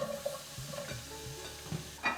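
Onions go into hot rapeseed oil in a pan and fry with a steady, close sizzle, with a few stirring scrapes and a louder clatter near the end.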